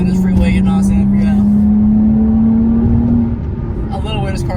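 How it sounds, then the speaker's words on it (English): A 2020 Toyota Camry TRD cruises on the freeway at around 50 mph, its engine giving a rising, droning hum from inside the car that eases off near the end, with a voice breaking in briefly. "I love the way this car sound"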